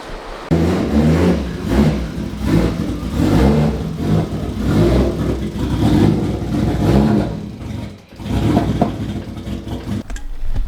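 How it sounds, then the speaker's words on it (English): A drift car's engine runs and revs as the car is moved into a garage, a loud, close, mid-pitched drone that rises and falls, dipping briefly near the end, with no talk. "now we're going to roll the car inside, dry it off"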